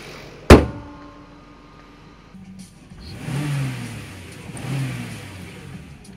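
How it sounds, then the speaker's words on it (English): A car's quad cam V8 engine revs up in a couple of rising and falling surges, after a single sharp bang like a door slamming shut; fairly close, with no talking. "Lovely quad cam V8."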